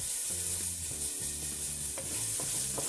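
Ginger sautéing in a pan, with a steady hissing sizzle under repeated low scraping and stirring strokes, close and fairly loud, and no voices.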